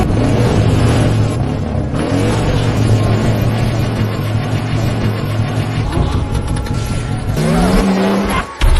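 A car in the film Carrie (2013) accelerating hard, its engine revving loud and close with squealing, skidding tires and rising pitch, running continuously before a brief drop near the end.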